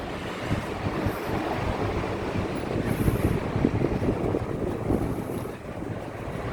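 Wind blows steadily outdoors on a hot day, a constant rushing roar that buffets the microphone and swells and eases slightly throughout, with no one speaking.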